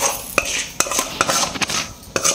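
A metal spatula stirs a vegetable poriyal in a kadai, giving sharp scraping clinks against the pan at irregular intervals over a soft sizzle. The stirring is close and loud, with no one talking.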